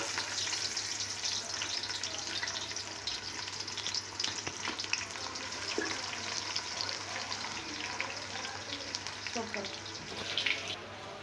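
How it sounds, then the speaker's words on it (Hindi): Onions frying in roughly a quarter kilo of hot oil in a pot give a steady, close, even sizzle that continues throughout, with faint clinks and a brief voice near the end. "एक बर्तन में हमने 1 पाव के करीब तेल डाल दिया है और इसमें प्याज शामिल कर देंगे।"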